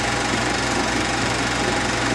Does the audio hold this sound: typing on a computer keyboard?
no